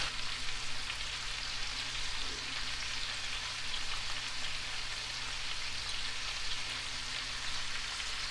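Chicken and vegetables seasoned with black pepper and salt sizzle in a pan, an even, continuous frying hiss close up with no talking.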